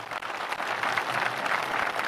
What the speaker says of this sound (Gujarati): એક વખત તાળીઓના ગડગડાટથી એને સમર્થન આપીએ.